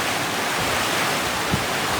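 Dense, continuous roar of rushing rainwater floodwater, loud and steady with no pauses, a strong torrent pouring past nearby.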